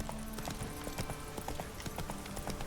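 Roach, the horse in The Witcher 3, gallops with a rapid, rhythmic clip-clop of hooves running steadily up close, with no one speaking.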